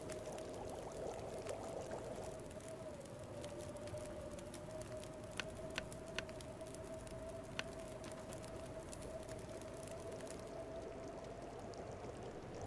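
Water being prepared over a fire in The Long Dark survival video game, a faint continuous pouring or bubbling wash with a steady tone and scattered soft clicks, with no talk.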